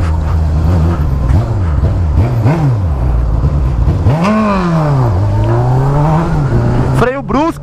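Honda Hornet motorcycle engine revving hard in repeated rising and falling sweeps, stretching high near the end, loud and close, with people talking over it.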